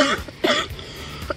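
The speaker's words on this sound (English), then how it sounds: "What would you do if you couldn't stop the coughing?" A person coughs in a few short bursts, close and fairly loud, outdoors during a family lake trip.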